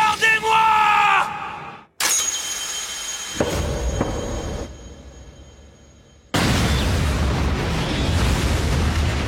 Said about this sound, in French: Floch, ses hommes et Hansi entendent l'explosion au loin.